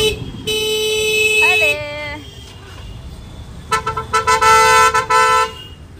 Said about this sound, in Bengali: এত বাজে রকম ভাবে হর্ন মারতে থাকে বিনা কারণে